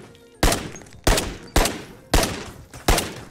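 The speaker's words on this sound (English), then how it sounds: "Oh gosh, we got some ricochet." Five sharp gunshots from the Ghosts of Tabor video game, fired at an even pace about half a second apart, each a loud crack with a short decaying tail, with bullet ricochet heard among them.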